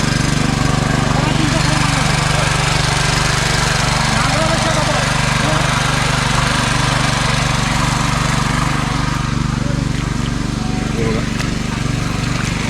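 A loud, steady engine drone of a tractor ploughing a paddy field runs throughout at close range, with people talking faintly beneath it.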